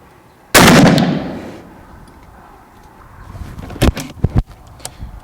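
A single loud, sharp crack from a Savage 220 rifle being sighted in outdoors, with a decaying echo rolling off afterward, followed seconds later by a few fainter clicks and knocks.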